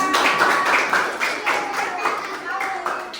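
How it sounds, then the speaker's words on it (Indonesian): Classmates applaud a student in a classroom, a brief patter of many hands clapping fairly close, with voices audible beneath the clapping. "Oke, benar, tepuk tangan."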